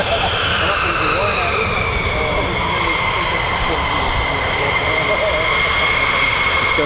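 A fighter jet of the 48th Fighter Wing's 494th Fighter Squadron taxis on the runway at RAF Lakenheath, its engines giving off a loud, steady whine and roar that holds evenly throughout.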